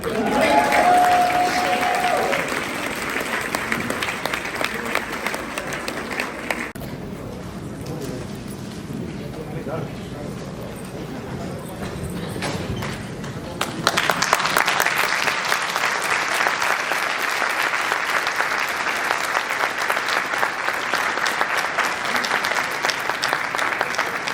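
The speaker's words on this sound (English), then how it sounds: "let's give a big round of applause to the Union Hotel staff that served us today" A large banquet crowd breaks into loud, sustained applause for the Union Hotel hotel staff who served the meal, the clapping dense and steady with voices mixed in throughout.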